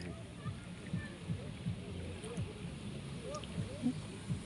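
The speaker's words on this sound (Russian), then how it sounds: "Волны, да, успокаивают." Small waves lapping and splashing at the edge of the Sozh river in August, soft irregular water sounds near the shore with light wind and a voice talking over them.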